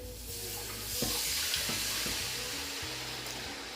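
Roughly 1.75 litres of water being poured into a pot of cooked tomato for tiebou diaga, a steady hissing, bubbling rush with faint clinks, close and continuous, with no voices.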